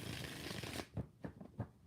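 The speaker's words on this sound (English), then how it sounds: "Four shuffles for Moon" Tarot cards being shuffled by hand, a dense riffling burst giving way to a few separate soft taps and slaps, close and fairly quiet, with no talk.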